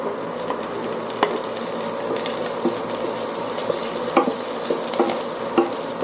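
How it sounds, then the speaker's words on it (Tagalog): Chili frying in a pan while Bicol Express with coconut milk is being cooked gives a steady close sizzle with scattered sharper pops and crackles and occasional stirring scrapes, with no one talking. "Tumatalsik yung buto ng sili."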